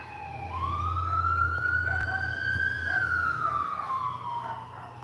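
An ambulance siren passing outside rises into one long sustained wail, swelling and then sliding back down as it moves away, steady and moderately loud against a low rumble.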